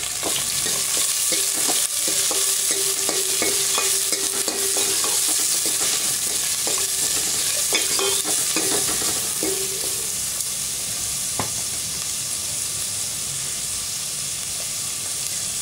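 Sliced onion, green chilies, four garlic cloves and dried chilies fry in hot oil for turkey berry sambar, with a steady loud sizzle throughout and repeated light clinks of stirring in the pan.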